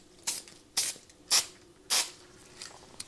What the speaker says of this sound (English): So I'm just using this particular spray adhesive at the moment, the Micador or Micador spray adhesive. Just spray it a little bit on there